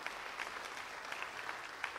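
A church congregation applauds in praise, a steady wash of many hands clapping throughout at moderate, somewhat distant level with no talk over it.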